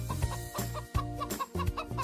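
Cartoon chickens cluck in short repeated bursts with brief pauses between them, close and steady, and no voices.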